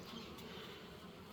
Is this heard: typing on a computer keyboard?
no